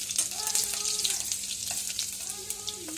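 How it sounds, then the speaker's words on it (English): Ginger and garlic fry in a few tablespoons of hot oil, a bright, close sizzle with light stirring scrapes, steady across the moment. "In goes the ginger garlic. To get the rawness of the ginger garlic out and the flavor into the oil."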